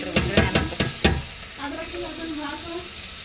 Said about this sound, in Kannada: ಅದಕ್ಕೆಲ್ಲ ಮಸಾಲೆ ಹಾಕಕತ್ತೈತೆ ನೋಡ್ರಿ ಒಗ್ಗರಣೆ ಅನ್ನ.